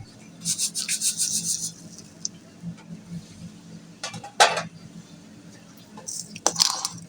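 A spoon scrapes and rubs around a pan as sugar is stirred into semolina halwa cooked with milk, in short close bursts of grating with quiet gaps between.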